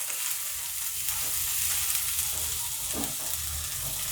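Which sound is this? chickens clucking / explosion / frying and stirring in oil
frying and stirring in oil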